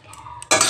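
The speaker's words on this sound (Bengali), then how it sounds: "তেলটা একটু নেড়ে দিলাম" A little oil heats in a wok on a gas stove, with a few light metallic scrapes of stirring that break into a sudden, loud, bright sizzle near the end, close up and without speech.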